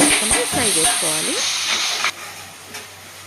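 Three medium onions, coarsely ground, fry in hot oil for a fish masala curry, giving a bright steady sizzle and hiss with stirring clatter, fading somewhat near the end.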